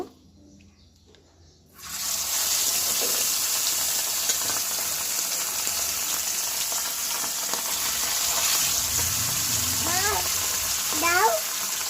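Pomfret fish frying in hot oil in a home kitchen, an abrupt loud sizzle that starts after a quiet moment and continues steadily up close, with faint clinks near the end.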